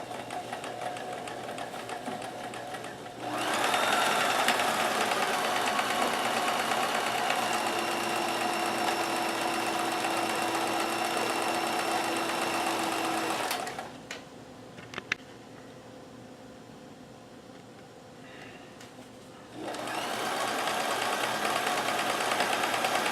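A sewing machine runs a 4-point zigzag stitch on a clothing repair, a steady close mechanical whir with a rapid ticking rhythm that stops for several seconds mid-clip, then starts again without any talk.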